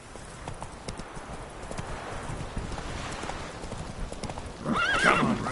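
Roach, the horse in The Witcher 3: Wild Hunt, gallops with steady rapid hoofbeats that swell louder toward the end, where a whinny cuts through.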